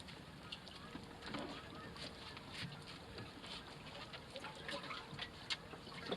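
A boat pushed by an electric trolling motor at full power while towing a dinghy in calm water, giving a steady wash of water and wind noise with faint splashes, no speech over it.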